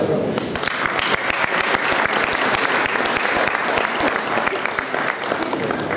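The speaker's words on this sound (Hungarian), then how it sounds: "szeretnék tapsot kérni a számára" A banquet-hall audience at a charity ball gives long, vigorous applause, crisp individual claps densely layered throughout with faint crowd murmur underneath.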